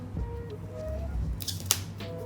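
A knife slices through the wrapping of a DJI OM4 gimbal stabilizer box, a few quiet scraping cuts followed by a sharp rustling snip close by.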